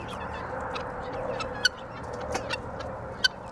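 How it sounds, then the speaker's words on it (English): A newly added flock of fowl gives soft, high whistling peeps over a steady outdoor hum, scattered calls with a few sharper chirps standing out. "they all just make that little wee, wee, wee, wee, wee, wee, wee noise"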